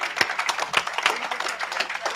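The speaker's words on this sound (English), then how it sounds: "One big round of applause, one last time." An audience at a community huddle gathering gives a round of applause, with many hands clapping in a dense, steady patter at moderate volume.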